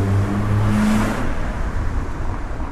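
A 2005 Toyota drives along with a steady engine whir and road rumble, loud and close, with no talk.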